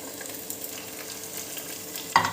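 Green chillies and shallots hit hot oil in a pan for a Kerala-style fish curry, giving a steady sizzle with light stirring and a sharper scrape or clatter near the end.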